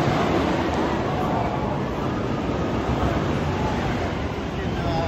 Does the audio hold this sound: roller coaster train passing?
yes